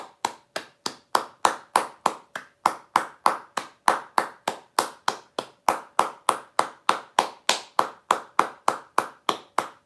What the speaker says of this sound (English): Can we please get a round of applause?